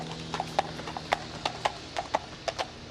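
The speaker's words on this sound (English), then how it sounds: "The horse." A horse's hooves clip-clop steadily on a hard surface at a walking pace, crisp and fairly close, over a low background hum.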